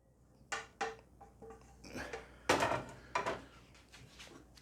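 Salmon, pea and broccoli risotto being spooned into a bowl, with several distinct clinks and scrapes of spoon on crockery spread over a few seconds, close and fairly quiet.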